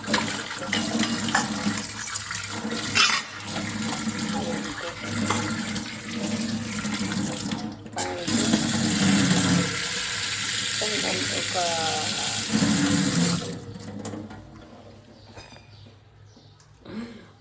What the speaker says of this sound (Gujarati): રસોડામાં પાણી ધમધોકાર ફૂલ જ આવે.